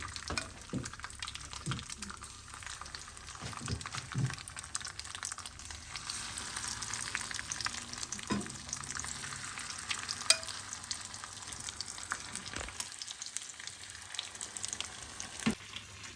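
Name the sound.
chicken frying in a pan for butter chicken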